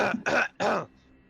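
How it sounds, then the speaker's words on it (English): A person coughs three times in quick succession, close and fairly loud, each cough a harsh broad burst, then quiet, heard during a tabletop role-playing game session. "Sorry, I just had to cough out my spleen."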